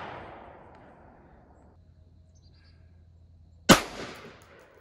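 Carbine rifle fired at a shooting range during zeroing: a single sharp, loud report near the end, with a short echoing decay after quiet outdoor ambience.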